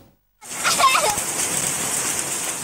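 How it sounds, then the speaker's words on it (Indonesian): Hailstones the size of corn kernels fall in Tiste village, Busungbiu, Buleleng, starting suddenly as a dense, loud, steady patter and splatter, with a voice briefly audible over it. "Beginilah detik-detik hujan es yang turun di wilayah Desa Tiste, Kecamatan Busungbiu, Buleleng"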